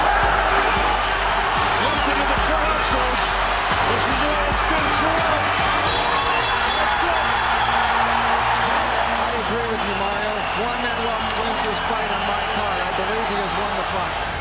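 A boxing arena crowd roars continuously in the final round, a loud, dense wash of cheering and shouting with scattered claps and a commentator talking over it.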